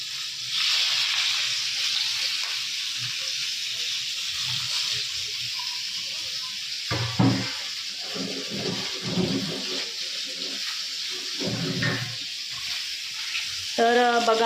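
Stuffed green chillies (bharli mirchi) sizzle steadily in hot oil in a pan on a gas stove, a continuous bright hiss with a few brief clatters and stirring bumps partway through.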